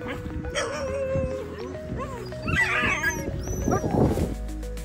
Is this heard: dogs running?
yes